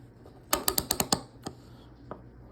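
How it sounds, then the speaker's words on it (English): A Williams 3/8 inch ratchet with a batwing pawl clicks in a quick run of six sharp, close ticks, then a couple of isolated clicks. "this is a pretty basic Ratchet design with the Batwing paw system"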